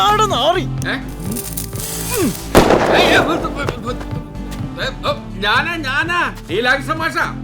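Firecrackers bursting close by, a loud sharp crack cluster near the middle amid lively overlapping talk and a music score.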